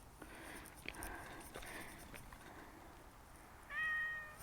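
A male cat gives a single faint, short meow near the end, outdoors against a soft hissing background.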